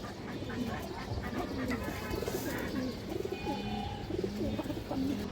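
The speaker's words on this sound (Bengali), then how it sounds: "এই যে দেখেন আপনারা কবুতর" A flock of high-flying pigeons, including silver and other color varieties, coos in overlapping low rolling calls throughout, close and dense, with faint background chatter.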